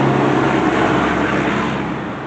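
A truck passes close by, a loud broadband roar that holds steady and then gradually fades as it moves away, with no talk.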